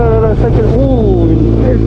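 A small GSX-S motorcycle being ridden, its engine a loud, close, continuous drone with wavering pitch throughout the short stretch.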